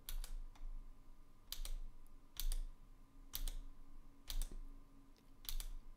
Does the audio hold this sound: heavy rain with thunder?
no